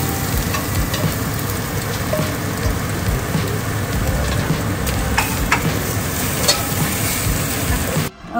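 Slices of beef sizzle steadily in a hot pan as they grill, a loud continuous crackle that holds for about eight seconds before cutting off abruptly at the end.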